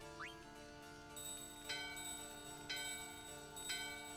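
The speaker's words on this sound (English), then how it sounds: "The bell in your hand and the doorbell are ringing." In Final Fantasy IX, a handheld bell and a doorbell ring, a bright chime repeating about once a second with ringing overtones, moderately faint and without voices.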